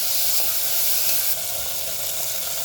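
Chopped coriander and mint sizzle in masala while being sautéed for a jeeragasamba chicken biryani, a loud, continuous close-up frying hiss with faint scraping, no voices.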